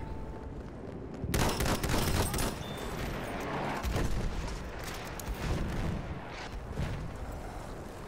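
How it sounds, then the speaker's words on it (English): Heavy, sustained gunfire and explosions fill a Battlefield 1 battle scene, a dense crackling barrage with bursts and booms continuing throughout at steady loudness. "There's some major, major gunfire."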